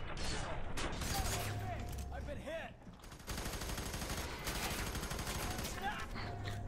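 Gunfire in the video game F.E.A.R. 3, dense bursts of shots running through most of the stretch with a short lull near the middle, sitting under and around players' voices.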